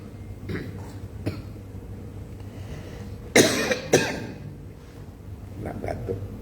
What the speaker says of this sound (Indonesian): Nak batuk.